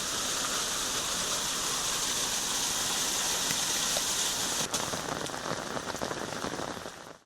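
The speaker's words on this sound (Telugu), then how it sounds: "భారీ వర్షాలు, ఉధృతంగా ప్రవహిస్తున్న వాగులు" Heavy monsoon rain pouring steadily in Himachal Pradesh, a dense continuous hiss of downpour on surfaces, close and loud throughout with no voices.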